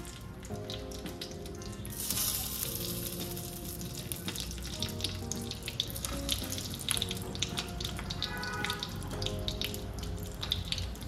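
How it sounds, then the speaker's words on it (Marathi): Stuffed green chillies frying in hot oil give a steady, moderately quiet crackle and sizzle with occasional sharper pops and a brief clatter near the start. No one talks over it. "तर आता ह्या मिरची फ्राय होत आहे"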